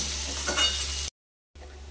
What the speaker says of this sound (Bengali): বাদামি কালার করে ভেজে নেব